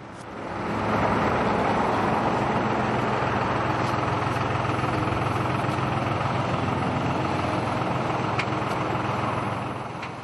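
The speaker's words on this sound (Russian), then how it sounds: "каждый саженец аккуратно достают из трактора, затем подвешивают на кран и бережно помещают в выкопанную яму" A crane engine runs steadily while lifting linden saplings off a tractor, a continuous heavy mechanical drone that swells in after the first second and holds loud and even without speech.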